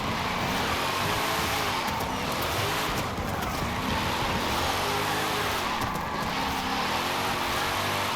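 A 2004 Nissan 350Z with an AWD drift tune slides on a wet road with the e-brake on and no throttle, its steady engine drone mixed with road hiss and wind noise throughout, close and continuous with no talk.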